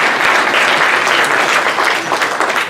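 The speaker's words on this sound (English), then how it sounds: "Somebody clap." An audience at a dean's semester address claps in a dense, loud burst of applause that runs steadily for a few seconds, with no speech over it.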